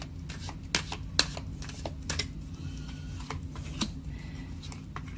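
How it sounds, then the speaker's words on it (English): Tarot cards are shuffled by hand, giving a run of crisp riffling snaps and soft slides at irregular intervals, close up with no talking. "if you don't like seeing me shuffle, I always shuffle in front of you"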